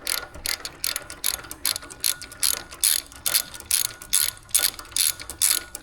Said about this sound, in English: let me go get a socket and we'll tighten those down